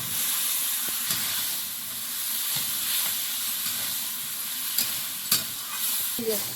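Potatoes and chickpeas frying with spices in a pan, giving a steady soft sizzle and hiss with occasional stirring scrapes and clicks, heard close and alone without talk.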